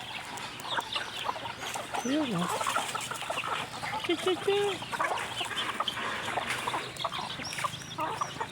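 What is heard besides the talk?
chickens clucking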